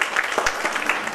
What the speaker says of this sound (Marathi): टाळ्या जोरदार देऊयात